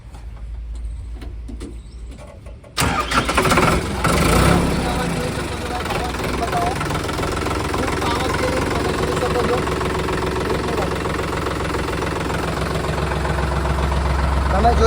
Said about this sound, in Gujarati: ચલો તમને ટ્રેક્ટર બતાવું ચાલુ કરીને